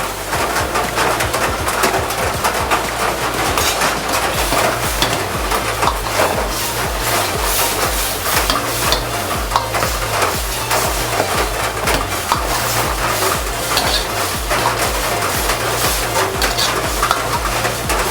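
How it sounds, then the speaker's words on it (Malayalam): Fried cauliflower is stirred into gobi manchurian in a hot pan, giving a steady loud sizzle with repeated scraping strokes of the spoon, close up with no talking. "ഇനി നമ്മുടെ ഫ്രൈ ചെയ്ത് വെച്ചിരിക്കുന്ന നമ്മുടെ കോളിഫ്ലവർ ഇതിലേക്ക് ചേർത്ത് ഇളക്കാം."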